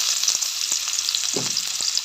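Onions, garlic cloves and dried chilies sizzle in hot oil left over from frying chicken, with a steady bright crackle and a couple of soft stirring scrapes close by.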